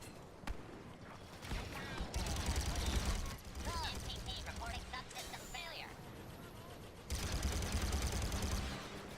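Gunfire in the multiplayer video game Star Wars Battlefront II, dense rattling bursts and blasts running under continuous game noise, with a short lull midway before another loud burst.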